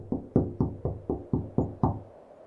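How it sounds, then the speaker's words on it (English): Seven evenly spaced knocks thud one after another in a steady rhythm, close and hollow, each with a short decay, then silence at the end. "That's when the knocking started."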